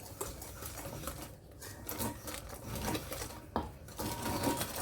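A whisk works wet ingredients into dry pancake batter in a bowl, a steady scraping and swishing in a quick repeating rhythm, close and fairly quiet, with no talking.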